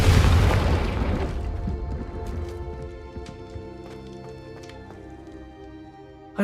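Confringo spell blast from Hogwarts Legacy: one loud, deep boom at the start, fading over several seconds into a ringing, tonal tail with scattered small crackles, then a sharp jolt right at the end.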